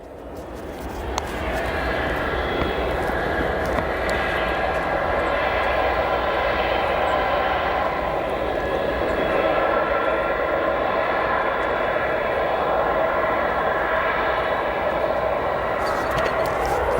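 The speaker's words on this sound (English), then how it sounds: "Qatar Airlines 777 off to Doha." A Qatar Airways Boeing 777 takes off at O'Hare, its engine roar building and holding as a loud sustained rumble with a whining tone over the full length.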